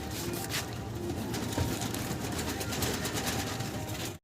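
A male pigeon cooing softly, with a low mechanical hum and faint rustling in the background.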